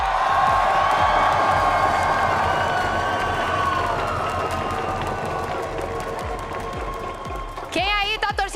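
A large crowd at an esports finals event in Rio roars and cheers continuously, with whoops and clapping, loud and close, and chanting voices rising near the end.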